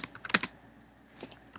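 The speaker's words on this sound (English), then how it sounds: "I'm just going to type this out and I'll explain it all after I've typed it." Code is typed on a computer keyboard in short clustered bursts of crisp key clicks, close and clear, with a pause between flurries.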